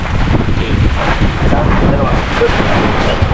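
Strong storm wind buffets the microphone aboard a boat far out at sea, a constant loud roar with rushing water beneath and speech faintly mixed in.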